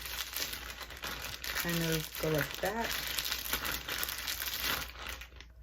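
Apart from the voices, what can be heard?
crinkling plastic bag with hair pomade inside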